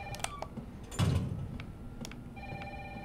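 A telephone in the video game Resident Evil 3 Remake rings with faint repeating electronic tones amid ambient game sounds and a soft thump, moderately quiet and without talk.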